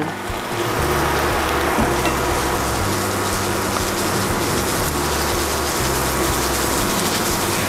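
Garlic and onion frying in oil in a pan, a steady broadband sizzle that starts abruptly and holds at an even, fairly loud level with faint clinks, no talking.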